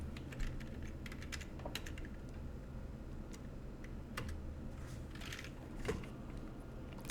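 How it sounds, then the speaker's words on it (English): Computer keyboard being typed on in quick, light clusters of close key clicks with short pauses between them, quiet against a soft room background and with no speech. "let's type in Petra"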